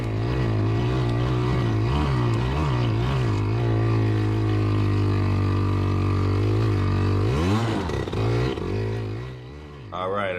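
A Yamaha PW80 dirt bike engine screams at full power climbing a hill on a rainy trail ride, a loud close buzzing whine with wavering pitch that dips and surges near the end.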